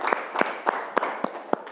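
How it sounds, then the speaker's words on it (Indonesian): Brief classroom clapping for a student: a handful of separate claps spaced in an uneven rhythm, close and fairly soft, with no voices. "tepuk tangan untuk Akbar"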